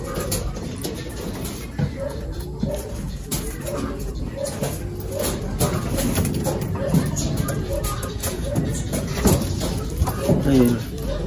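Several pigeons coo and rustle nearby, their soft low calls running under a person talking over them the whole time.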